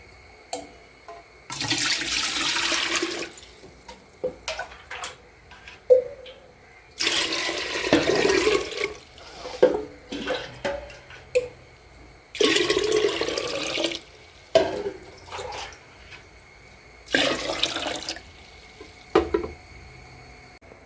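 Water gushes from a tap in four separate bursts of a few seconds each, with quieter pauses and faint clatter in between.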